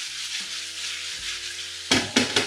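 Chicken pieces frying in a pan for chicken pizzaiola, a steady close sizzle, followed near the end by three louder scraping stirs.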